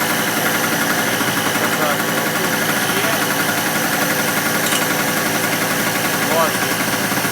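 A gasoline generator idles steadily while warming up, its engine running with an even, rapid chugging hum that holds constant throughout, and someone talks over it.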